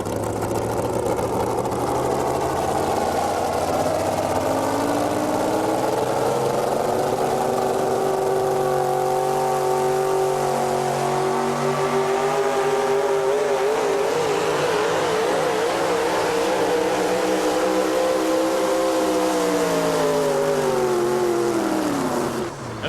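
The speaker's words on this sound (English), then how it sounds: "These trucks get up to speed pretty quickly. I'll tell you, when they're at full song, they're moving down this track." Pulling trucks at a 2007 tractor and truck pull in Hillsboro, Wisconsin, engines roaring loud and continuous for over twenty seconds, pitch climbing and wavering as they power down the track, no talk over it.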